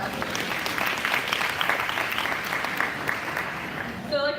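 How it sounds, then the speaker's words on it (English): Audience applause at the opening session of the Silicon Valley Bike Summit, a dense, steady wash of many hands clapping at once that holds loudly for several seconds before thinning out at the end. "Let's give ourselves a round of applause."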